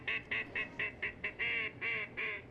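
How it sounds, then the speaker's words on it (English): A recorded duck quacks in a steady series of about nine nasal calls, close and fairly loud, played back from a museum exhibit demonstrating the actual sound of a duck. "Give you the actual sound of the duck."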